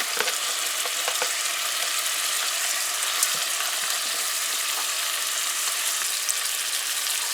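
Spice paste for Guyanese dhal fries in a pot as split peas are added, giving a steady loud sizzle with crackling pops and occasional stirring scrapes, close and continuous.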